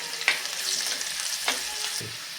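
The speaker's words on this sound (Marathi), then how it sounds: "बारीक चिरलेला आलं आणि लसूण आणि आलं थोडंसं आपल्याला सोनेरी रंग येईपर्यंत छानपैकी परतून घ्यायचे" Chopped garlic and ginger sauté in hot oil for spicy aloo palak, a steady close sizzle broken by a few sharp spatula scrapes and stirs against the pan.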